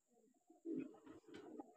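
A pigeon coos softly a few times, low and throaty, with quiet murmuring between calls.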